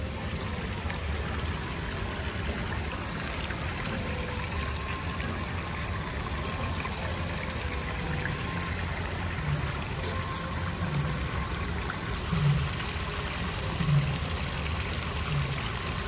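Water trickling and splashing continuously in the koi fish pond at the Japan pavilion in Epcot, a steady soft stream heard from nearby, with a few faint low thumps later on.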